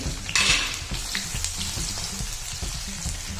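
Two medium finely chopped onions frying in a pan for kachnar chicken, a dense continuous sizzle with a brief louder burst as they go in and light scraping of a utensil.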